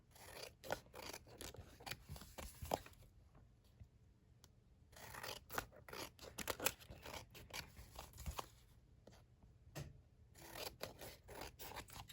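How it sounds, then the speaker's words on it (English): Scissors snip away excess cardstock while a mini accordion album is being made: a quick run of close, crisp cuts, then a pause, then more bursts of cutting and papery rasping, all fairly quiet. "I'm gonna cut off all the extra cardstock first"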